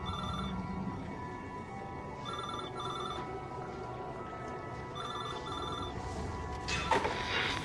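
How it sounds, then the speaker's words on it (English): An old telephone rings in repeated electronic bursts in a quiet room, three clear ring pairs spaced a couple of seconds apart over a low background hum, with a brief crackle near the end. "and the phone rang."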